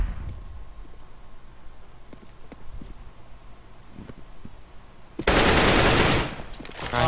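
An AK rifle in the video game CS:GO fires a loud sustained burst near the end, following quieter scattered in-game clicks and footsteps.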